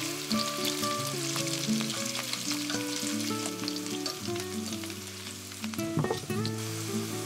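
Steady crackling sizzle of potato pieces deep-frying in hot oil, close and continuous with occasional louder pops.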